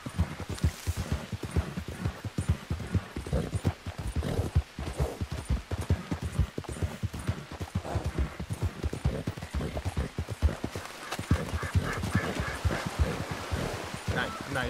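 Horse galloping in the Red Dead Redemption video game, with dense, rapid hoofbeats pounding steadily throughout, rustling and wind behind them, and voices talking over the game sound.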